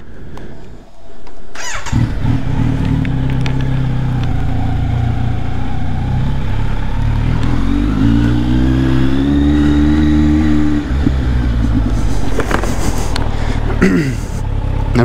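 A Kawasaki Z900 motorcycle idles steadily up close, then revs with a rising pitch as it rides off, with wind rush and a brief burst of louder noise near the end.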